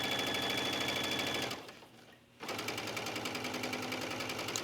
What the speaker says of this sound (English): I usually try to top stitch from the right side of the garment.